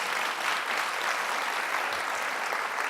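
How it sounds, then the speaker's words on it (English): Dense, steady applause from a large audience at a Stanford data science conference, a continuous wash of many hands clapping at even loudness for the whole stretch, with no voices rising above it. "Let's just give her another round of applause"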